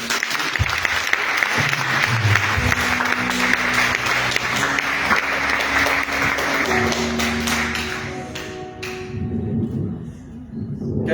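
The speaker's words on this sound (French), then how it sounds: "Applaudissons pour Jésus." A church congregation at a prayer assembly in Sainte Marie cathedral claps loudly and continuously, with instrumental music and tones rising underneath before the applause thins and fades near the end.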